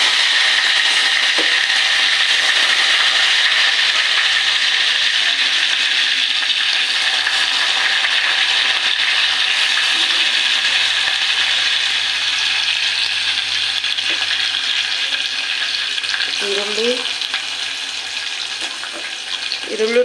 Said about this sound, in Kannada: ನೋಡಿ ಎಣ್ಣೆ ಕಾದೈತೆ, ನೀವು ಸಾಸಿವೆ ಜೀರಿಗೆ ಹಾಕ್ಕೊಳ್ತಾ ಇದ್ದೀನಿ